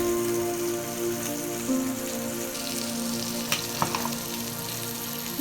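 Fish frying in hot oil crackles steadily and close up, a dense rain-like sizzle with a few louder pops and taps toward the end, no one speaking.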